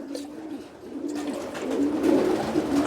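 Pigeons on a farm coo softly nearby in low, rolling calls that grow slightly stronger toward the end, over quiet room noise. No one speaks.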